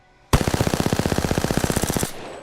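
Video game SMG firing one sustained burst of rapid, evenly spaced shots for about two seconds, loud and close, with no talk.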